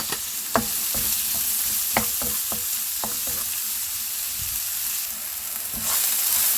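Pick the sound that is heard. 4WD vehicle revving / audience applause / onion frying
onion frying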